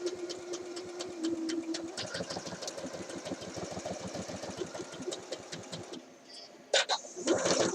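Sewing machine running a normal stay stitch along the half-inch line of a shirt dress, a steady rapid needle patter for about six seconds before stopping, followed by brief handling rustles and a short burst of talk.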